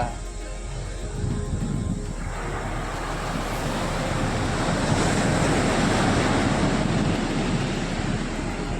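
Ocean waves and surf wash steadily against the shore in a broad, continuous roar with some wind noise, swelling slightly louder after the first couple of seconds, with no talking.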